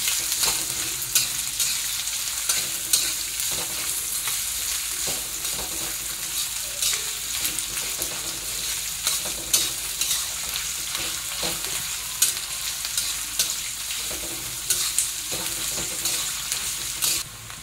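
Sliced onions fry in a pan until brown, a continuous close sizzle with frequent scraping and tapping strokes as they are stirred, and no one speaking.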